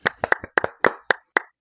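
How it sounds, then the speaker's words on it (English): A small, polite golf clap on a podcast honoring a contest winner: about seven or eight soft, separate hand claps in an uneven rhythm, close and alone with no talk. "Golf clap for you, sir."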